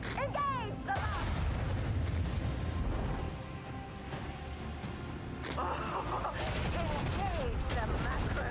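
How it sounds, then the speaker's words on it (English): Macro cannons in the Warhammer 40k Rogue Trader video game fire in a dense barrage of heavy booms and rumbling blasts that fill the whole stretch, with voices calling out over the bombardment. "Engage the macro cannons!"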